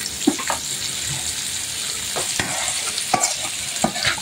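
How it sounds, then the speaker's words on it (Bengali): Onions frying in a pan for fried pabda fish, with a steady sizzle under repeated scraping and stirring strokes close by, no talk. "এখন পেঁয়াজ খুব ভালো করে ভেজে নিতে হবে"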